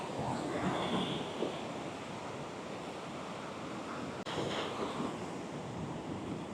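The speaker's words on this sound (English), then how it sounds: "Big waves." Big ocean waves breaking on the white sand at Nunggalan Beach, Uluwatu, Bali, a steady loud roar of surf with wind noise rushing across the microphone, no speech.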